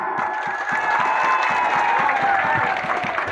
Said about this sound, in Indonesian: Aplaus untuk tim panelis kita.